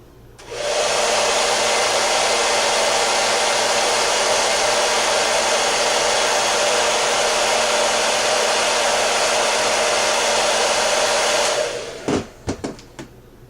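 A handheld heat tool blows with a loud, steady whooshing roar for about eleven seconds while warming a nail wrap, then switches off, followed by a few sharp clicks and taps.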